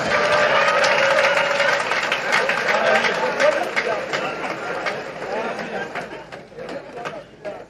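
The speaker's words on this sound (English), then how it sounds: "Please, a better applause for His Royal Majesty." Audience applause at the University of Nigeria, Nsukka 55th convocation ceremony, a dense and sustained clapping crowd with chatter mixed in, loud at first and slowly thinning toward the end.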